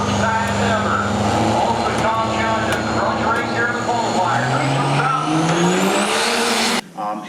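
A Ford truck with a Cummins diesel engine roars down a drag strip at a grudge race, loud and sustained with rising pitch as it accelerates, then cuts off abruptly near the end.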